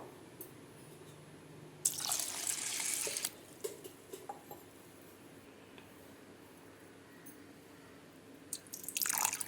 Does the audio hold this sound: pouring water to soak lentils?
yes